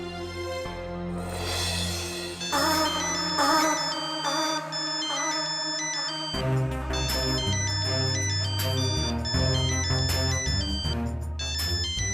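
A mobile phone rings for an incoming call, playing a bright electronic melody loud and continuous for several seconds. The tune is clear and uninterrupted, with no talking over it.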